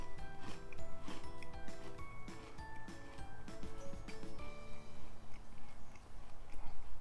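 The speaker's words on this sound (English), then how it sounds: "I'm gonna take a bite." Crunchy granola bar bitten and chewed close to the mic, a burst of crisp crackling bites followed by repeated moist crunching chews that grow irregular and softer, heard alone without talk.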